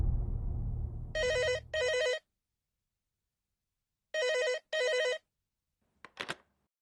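A telephone rings in two double bursts of bright electronic tones, loud and close, after a low rumble of background noise, followed by a brief click as the call is picked up.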